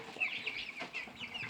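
Three-and-a-half-week-old meat chickens cluck and chatter in soft, quick bursts, faint and continuous, with no voices over them.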